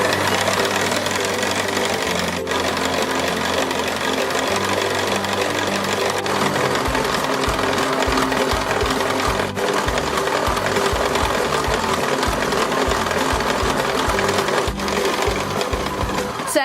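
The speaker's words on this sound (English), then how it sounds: "To make butter, we gotta keep on whisking" Whipped cream is whisked on toward butter: a steady, close whirring runs the whole time, and from midway it turns into a rhythmic, thumping churn as the mix thickens. No one speaks.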